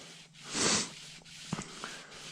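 Shoelace strips worked up and down against a crankshaft journal on a 5.3 LS engine, a soft close rubbing swish swelling once, followed by a couple of faint metallic taps.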